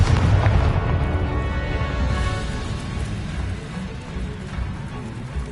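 Confringo blasting spell exploding in Hogwarts Legacy, a deep rumbling boom that starts loud and rolls off into a long fading roar with scattered debris pops.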